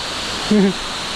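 Waterfall in Sapa, a constant broadband rush of falling water running steadily throughout, with a brief voice sounding in the middle.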